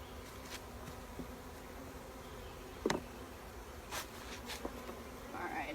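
Honey bees buzzing over frames of a nuc hive, a soft steady insect drone with a few brief louder passes of individual bees close to the microphone.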